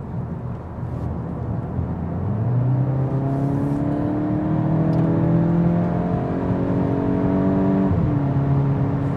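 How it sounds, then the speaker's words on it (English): A 2023 Volkswagen GTI accelerates hard as its turbo comes in, the engine note climbing steadily through rising harmonic tones, loud and heard from inside the car, ending with a quick shift. "Now you can really feel that turbo kick in."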